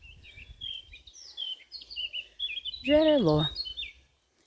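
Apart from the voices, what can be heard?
nightingales singing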